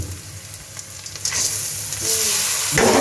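Washed, drained red lentils drop into a hot pan with onions and start frying, a rising sizzle that grows louder and brighter over a few seconds, with a final scraping stir.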